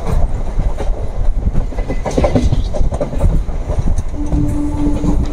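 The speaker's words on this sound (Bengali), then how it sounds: "আর আমাদের ট্রেন ঢুকছে 6 নম্বর প্ল্যাটফর্ম।" A MEMU passenger train rolls into platform 6 at Azimganj Junction, heard from on board. Steady wheel rumble and clickety-clack run throughout, with a sustained tone near the end, loud and close with no talk.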